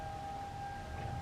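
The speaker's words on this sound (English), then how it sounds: "Some sirens going off." Outdoor warning siren, likely a tornado siren test, a steady sustained wail heard faint and distant across a quiet background.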